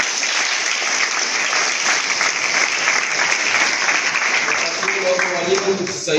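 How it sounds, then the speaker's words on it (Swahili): Sustained audience applause for the District Commissioner at a school event in Same district, a dense steady wash of clapping from a crowd that carries on throughout at even volume. "Tupige makofi mengi kwa Mheshimiwa Mkuu wa Wilaya."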